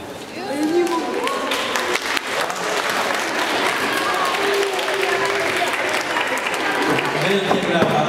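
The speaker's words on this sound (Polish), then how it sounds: "Wielkie brawa" An audience applauds at a Warsaw presentation session, steady clapping filling the room while scattered voices and a few whoops rise over it.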